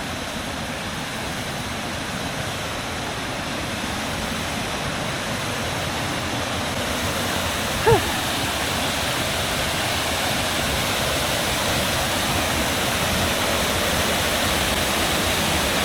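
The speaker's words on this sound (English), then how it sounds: "It's a waterfall." A waterfall heard outdoors on a solo campervan trip: steady, loud broadband rushing of falling water that persists throughout, with one brief faint tone partway through and no talking.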